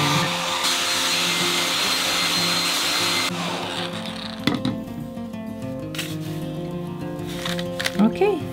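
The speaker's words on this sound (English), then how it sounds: "put a hair dryer on him." A steady, loud blowing whoosh from a hair dryer drying a polymer clay piece runs for a few seconds, then cuts out, leaving softer rustling and handling sounds.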